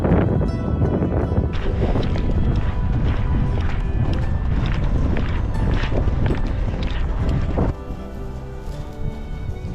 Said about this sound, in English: Very windy today, very, very windy.